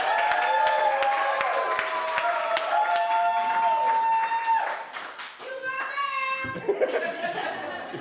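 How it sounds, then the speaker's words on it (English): Sustained applause and clapping from an improv show audience fills the clip, with some cheering and chatter, tapering off near the end as voices take over. "one more time, round of applause for Isa."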